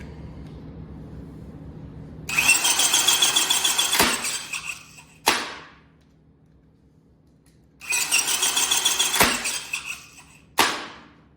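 A new motor in a CM52 circuit breaker runs in two separate bursts of whirring, each about a second and a half long. Sharp mechanical clunks follow each run in the otherwise quiet room.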